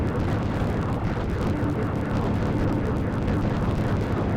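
Dense, continuous rumbling explosion barrage from the shoot-'em-up video game Tyrian 2000, heavy low-end booms running steadily throughout with no talk over it.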